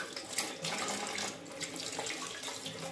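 Cold water runs steadily from a tap into a sink as hands are washed, a close, continuous splashing hiss with no talk.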